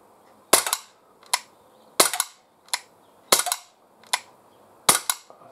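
A Glock 17 CO2 blowback air pistol fires at a can outdoors at about ten yards, with roughly nine sharp cracks in uneven pairs and singles, each loud and close with a short ringing tail, and no talking.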